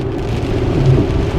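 Heavy rain pours steadily over a Tesla car driving near Raleigh. The dense, even hiss and drumming of the downpour stays close and loud throughout, with no talking.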